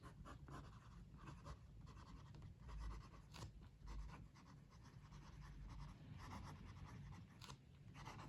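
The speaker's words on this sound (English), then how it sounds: "Writing." An Asvine J16 fountain pen with a number 6 Jowo nib writes on paper, giving soft close scratches and strokes with brief pauses at a steady quiet level, and no one speaks.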